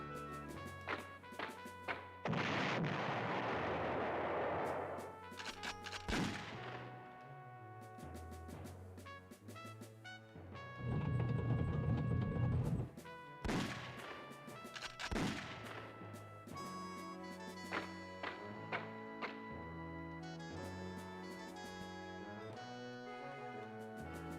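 Strafing fighter gunfire in a Panzer General battle on PlayStation, with bursts of rattling shots and booming impacts spread across a busy stretch of game sound effects and music tones, some loud, some thinner.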